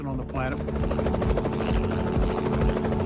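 Helicopter flying over a residence during a military raid mission, a steady loud rotor drone with layered harmonics running throughout, alongside narration-like voices.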